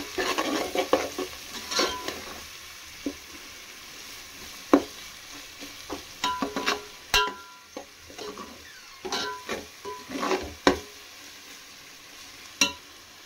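Ground masala of coriander, cinnamon, clove and spices fries in a pan for goat head curry, a low sizzle under repeated uneven scrapes and knocks of a spoon stirring, close and intermittent.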